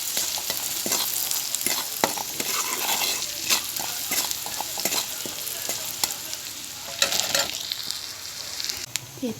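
Onion and garlic with salt frying in a pan, a steady broadband sizzle with repeated scraping stirs and occasional clinks, close and continuous throughout.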